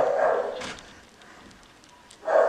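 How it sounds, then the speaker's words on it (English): A dog barks loudly nearby indoors, two deep barks separated by a quiet gap of about two seconds. "that dog is so loud"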